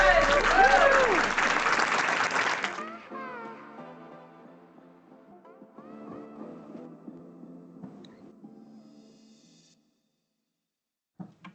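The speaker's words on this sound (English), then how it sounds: "Another round of applause." Audience applause at a district board of health meeting, a dense burst of clapping for about three seconds that breaks off into scattered claps and room murmur.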